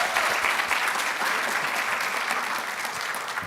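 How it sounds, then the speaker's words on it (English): Conference session audience claps warmly for a speaker, a short burst of dense, sustained applause at even loudness throughout. "Round of applause for Poonam."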